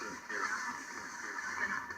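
Two radio tuners hiss with steady white noise, a broad bright static wash holding even and continuous with little variation.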